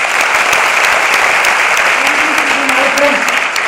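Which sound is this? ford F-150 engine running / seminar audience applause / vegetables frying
seminar audience applause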